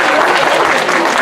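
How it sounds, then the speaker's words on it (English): A crowd applauds students and finalists at an evening event, dense continuous clapping close and loud throughout. "Round of applause for the students and finalists tonight."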